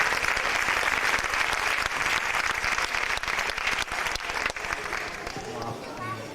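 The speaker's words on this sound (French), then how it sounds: "Donc on peut l'applaudir très fort, Roland." Audience applause fills the hall at a Slovak folk dance presentation for a dancer-translator, dense steady clapping throughout, close and loud, with a few voices mixed in and faint tones near the end.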